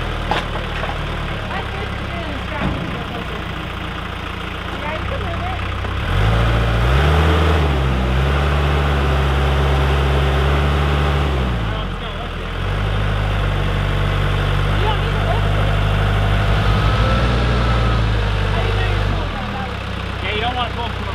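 A tractor engine idles with a deep, steady low rumble that starts after a few seconds and runs on to the end, while voices talk around it.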